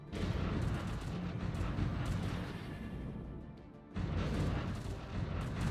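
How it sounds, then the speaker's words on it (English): Heavy laser cannons firing during a space battle in the strategy game Stellaris, a loud rumbling barrage of booming blasts that dips briefly and then surges again, continuous and without talk. "Finally, my big laser cannons opening up."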